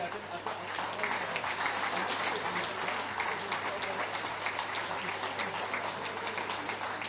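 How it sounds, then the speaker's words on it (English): An audience at the Welsh Open, a bowls final, gives the finalists a big round of applause: dense, sustained clapping from a full room that holds steady throughout, with speech mixed in. "Let's hear a massive round of applause for your Welsh Open finalists."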